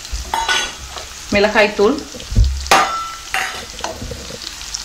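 Gooseberries (amla) sauté in oil over a medium flame, giving a steady sizzle with bursts of stirring and scraping in the pan, loud and close.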